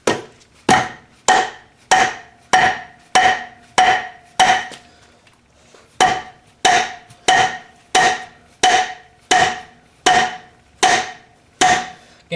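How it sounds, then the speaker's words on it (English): A dead blow hammer strikes the metal lobes of a Thunderbolt A2-4M blower sharply in a steady series of about seventeen loud, dry blows with a short pause midway, each hit ringing briefly before the next. "I'm going to use a dead blow hammer"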